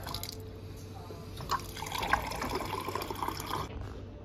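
Pineapple juice pours into a glass in a hotel self-service bar, a steady liquid trickle with a few splashes against a constant background hum.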